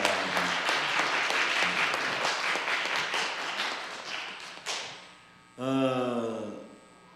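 A church congregation applauds the choir after a Sunday worship service, dense sustained clapping filling the room for several seconds before fading, followed by a brief swell of organ or sung tone.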